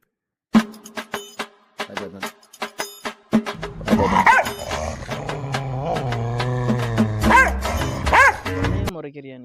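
A dog gives a run of sharp, separate barks, then moves into longer whining, growl-like yowls mixed with voices, all close and fairly loud.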